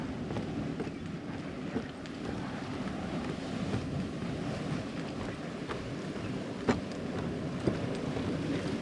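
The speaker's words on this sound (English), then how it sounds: "Now this one is really boiling." Steady, dense bubbling and churning water from a boiling hot spring in Yellowstone National Park rushes continuously, with a few faint pops and splashes rising above the roiling hiss.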